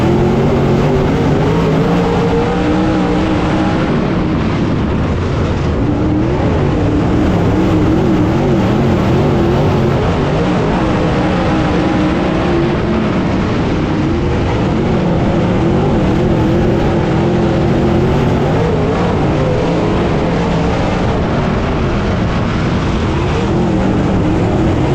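Dirt-track race cars roar together at I-75 Raceway in Tennessee as the green flag drops, a dense, continuous engine din of many cars accelerating at once, loud and sustained throughout without voices.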